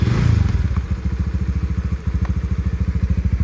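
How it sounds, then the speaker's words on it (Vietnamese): A Honda Winner 150cc motorcycle engine starts up close, then settles into a loud, steady, rapid thumping idle with a slight dip partway through. "Bây giờ đến công đoạn là thử nổ máy."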